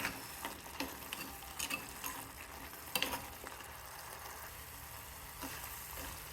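Tomatoes and drumsticks sautéing for a drumstick curry, a quiet continuous sizzle broken by intermittent clicks and taps of a spoon stirring in the pan, close and fairly faint.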